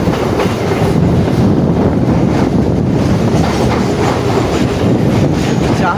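A local train from B.B.D Bag to Sealdah via Majerhat runs loud and close, with a steady heavy rumble and rhythmic clickety-clack of wheels on the rails and no talking.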